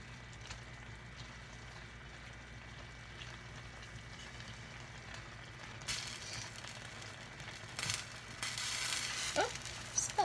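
A mixture sizzles quietly in a frying pan as it is stirred, a steady low crackle with louder scraping bursts toward the end.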